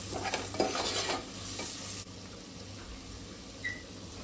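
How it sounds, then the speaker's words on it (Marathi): A spoon stirs homemade Koli masala spices into a drumstick and potato curry in a pan, with close scraping strokes over a soft sizzle that settle after two seconds into a quieter frying hiss. "घरगुती कोळी मसाला घालूया। मिक्स करते मसाले।"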